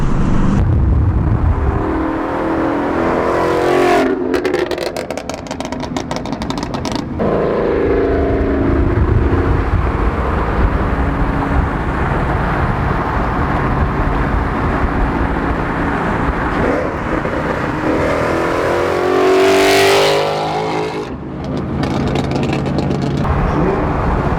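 A supercharged 2018 Ford Mustang GT with a stage 1 Whipple blower roars past while accelerating, its loud engine note swelling and fading twice over a constant road and wind rumble.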